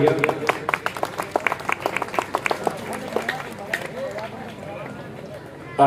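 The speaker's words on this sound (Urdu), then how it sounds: "یہ ہمارے مہمان کے اعزاز میں آپ نے تالیاں بجائی ہے" Audience at a night-time naat mushaira clapping in honour of a guest, a burst of scattered claps fading out, with a speaking voice running over it.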